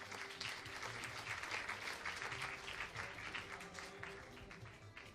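An audience at a skeet shooting duet event applauds steadily, a dense spread of clapping heard at a moderate distance and sustained throughout without a break.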